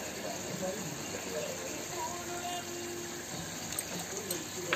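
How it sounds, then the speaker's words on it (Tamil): Water poured over ginger and garlic to wash them in a home kitchen while making prawn gravy, a soft, steady trickle and splash with a faint hiss and no speech over it. "இந்த இஞ்சி பூண்டுலேயே தண்ணி ஊற்றி"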